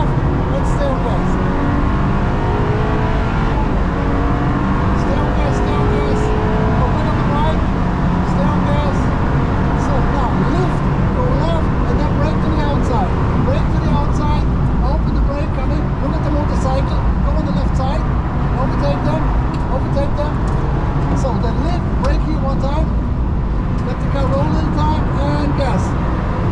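A car's engine pulls steadily under acceleration on a Nürburgring lap, recorded from inside the car, a loud continuous drone that never lets up, with a driver talking over it throughout.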